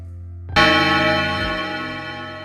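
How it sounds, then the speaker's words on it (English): A heavy bell struck once after a near-silent moment, its loud, rich ringing tone decaying slowly over a couple of seconds. "A heavy bell broke the silence."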